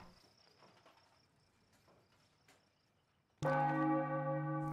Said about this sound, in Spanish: Las campanas.